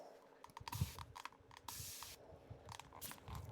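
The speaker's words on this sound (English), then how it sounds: "I'll give it a quick squirt of the alcohol spray" A few short, quiet hissing squirts from an alcohol spray bottle onto resin, separated by small clicks and handling noises, fairly close and faint.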